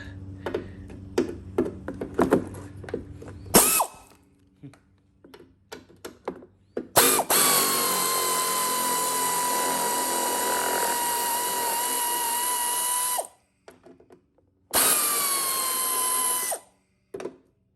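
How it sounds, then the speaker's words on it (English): After some clanks and clicks, a loud air compressor starts with a droning motor whine, runs for about six seconds, stops, then starts again briefly. "The compressor will kick on, and this is pretty loud."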